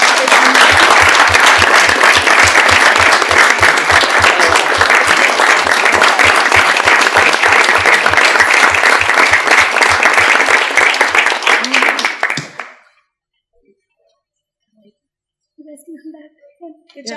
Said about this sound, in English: So we can give them one more big round of applause